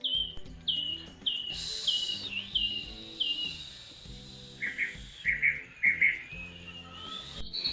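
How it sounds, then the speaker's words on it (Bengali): Birds in a cartoon village chirp in short, repeated bright tweets over steady background music, fairly faint and evenly spaced. "পাখির কলরব আর নদীর কলকল ধ্বনি"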